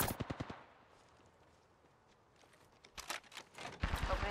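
Apex Legends gunfire arrives in quick bursts, a close volley at the start, then quieter movement sounds before more rapid shots cluster near the end.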